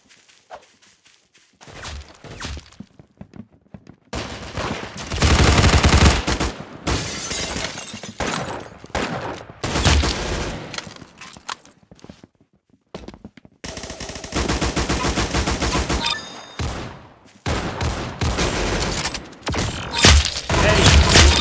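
Bursts of gunfire, single shots and rapid automatic volleys, ring out in loud clustered bursts separated by short pauses, with shattering and footsteps mixed in.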